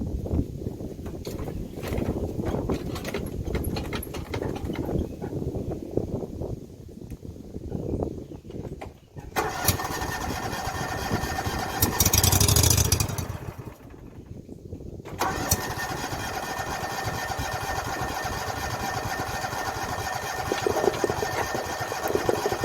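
A John Deere F725 commercial mower engine cranks through repeated starting attempts, then catches and runs with a steady, loud mid-pitched drone, briefly surging before settling into a continuous idle.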